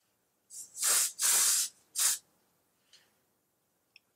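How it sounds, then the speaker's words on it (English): Three quick hissing bursts from a spray bottle of face highlighter mist, sprayed at the temple, close by, followed by a faint fourth puff and a tiny click. "So now I'm gonna go kind of spray the temple"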